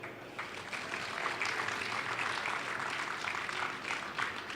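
Steady applause from an audience at the Amiga 38 computer event in Germany greets a demo, a dense, continuous wash of clapping heard from a distance, lasting several seconds without a break.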